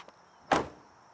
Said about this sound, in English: But look, I'll close the door here.